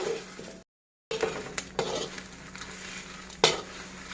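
Chili, shallots and garlic dry-roasting in a pan, stirred with a utensil: soft crackling and scraping with a few sharp metallic knocks against the pan, close and quiet, broken by a brief dropout.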